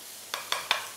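Dried tofu tossed in a hot wok with garlic and shiitake mushrooms, giving three short, bright scraping sizzles about a fifth of a second apart over a faint steady hiss.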